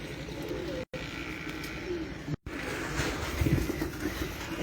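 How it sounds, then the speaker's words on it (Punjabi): Rooftop pigeons coo in soft, low, repeated calls, close by, over a steady background hum, with no talking. "ਇਹ ਕਬੂਤਰ ਅਲੀ ਵਾਲੇ ਕਬੂਤਰ ਵਾ,"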